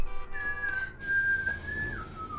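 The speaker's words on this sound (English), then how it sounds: "Jordan's nonchalantly whistling." A person whistles in a sustained, clear, nonchalant tone whose pitch wavers and drops at the end, loud and close with no talk over it.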